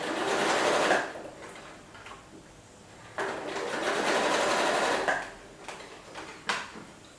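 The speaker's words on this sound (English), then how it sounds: "again stitch on that line of stitching that we've already done" A sewing machine stitches fabric for a rotary purse, whirring in two fast bursts with a pause between and small clicks of the mechanism, close up.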